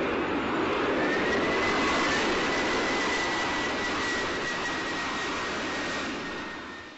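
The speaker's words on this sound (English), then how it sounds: "a large Canadian military plane taxis along the runway and into position." A large Canadian military plane taxis along a runway, a steady, loud broadband engine roar with a faint high whine that holds throughout and eases slightly near the end.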